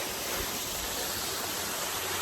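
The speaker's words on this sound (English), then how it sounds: "And then you are in between the stages of this waterfall" A small waterfall spills between stages into rock pools, giving a steady, even hiss of falling and churning water at moderate volume, constant throughout with no voices.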